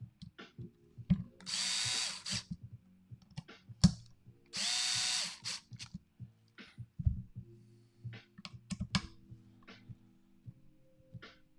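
A power drill drives screws while an RC car is assembled, with two distinct whirring bursts of about a second each, separated by clicks, taps and handling of parts on a quiet bench.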